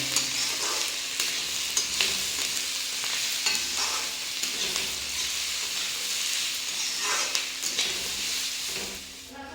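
Bitter gourd (karela) with salt being stirred in a hot pan, a continuous sizzle broken by repeated scraping and clinking strokes of a spoon, close and without speech.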